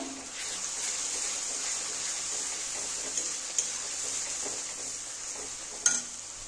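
Onion with salt and turmeric powder sautéing for a Bengali-style fish curry, a faint steady sizzle with occasional soft stirring knocks and one sharper clink near the end.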